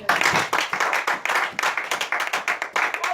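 A church congregation clapping in steady rhythmic unison to acclaim the Lord during a prayer vigil, about four claps per second, loud and sustained throughout.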